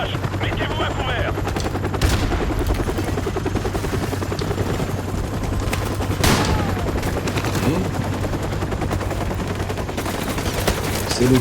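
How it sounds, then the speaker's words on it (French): Call of Duty 4 combat: a helicopter's rotor drones steadily while bursts of machine-gun and rifle fire crackle continuously, loud and dense throughout, with sharper shots standing out now and then. "L'hélicoptère fait un autre passage."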